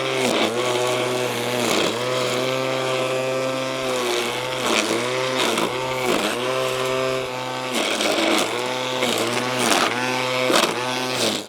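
A cheap cordless weed wacker trims steadily, its motor whining loud and close with short dips in pitch as it bites into growth, running continuously for about eleven seconds.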